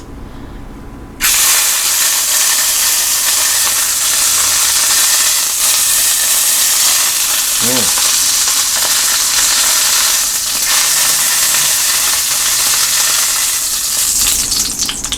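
Steak seared fat side down in a hot pan for sous vide steaks: a loud, steady, close sizzle bursts in after a second of quiet and crackles on without pause to the end.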